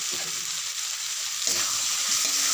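Potato and eggplant pieces coated in spice paste and sugar frying in a pan, a dense continuous sizzle with a stirring scrape that swells about halfway through.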